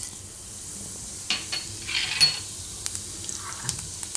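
Nigella seeds hit a small amount of hot oil in a pan and sizzle in a brief hiss, with light spoon-stirring and clinks of utensils against the pan, close and fairly quiet.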